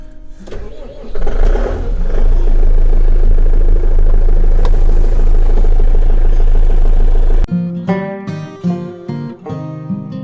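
A tractor engine cranks and starts in a snowy setting, then settles into a loud steady rumbling idle that cuts off abruptly, followed by brief clunks and knocks.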